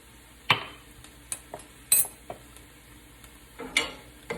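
A utensil stirring spices with salt in a pan, several distinct scraping clinks at irregular intervals against the metal, close and clear over a faint background hum.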